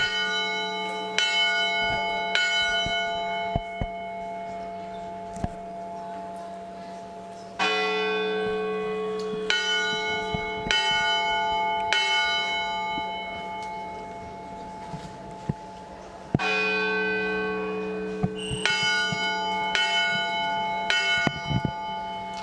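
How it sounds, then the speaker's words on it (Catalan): Church bells in a Bétera bell tower ring the dawn toll during a bell concert, with repeated bright strikes and long ringing overtones in several loud waves that overlap and build. "És el toc de l'alba."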